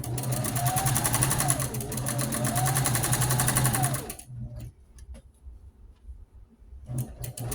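A sewing machine stitches around the edge of a pink rag quilt in a loud, fast, steady whir. It stops halfway through, leaving faint clicks and handling noises before a short burst of stitching returns.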